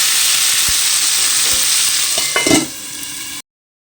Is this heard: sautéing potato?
yes